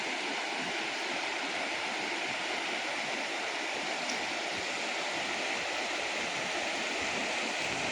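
A continuous rushing of a hill river, broad and steady, with no breaks or voices over it, on a cloudy day.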